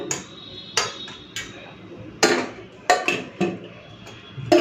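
Metal utensil clinking and scraping against a plate while rice is served at a home lunch, several sharp separate taps and clatters at an uneven pace, close and fairly quiet with no voices.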